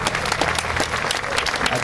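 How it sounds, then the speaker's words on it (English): Loud, dense applause from an audience at a county marching band show, a steady wash of many hands clapping together with no pauses. "Let's give him a big round of applause,"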